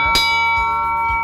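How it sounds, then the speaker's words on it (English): A hand bell rung at a blind hole on the Majlis course at Emirates Golf Club: one loud metallic strike with long sustained ringing tones, then softer repeated clangs as the bell swings. "So make sure you ring a bell"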